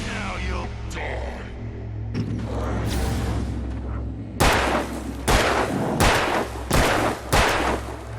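Gunshots in the video game Alan Wake: scattered quieter effects early, then a series of five or six loud, sharp gun blasts spaced roughly a second apart, each followed by a short ringing tail.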